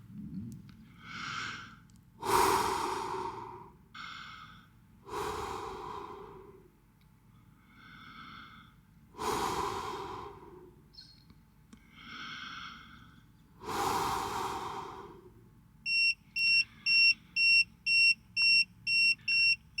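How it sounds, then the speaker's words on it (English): A person exhales heavily onto an Inkbird CO2 monitor, several long close-up breaths spaced a few seconds apart, followed by the monitor's alarm beeping in a rapid repeated series at the end. "I'm going to breathe on it and see if it makes a difference"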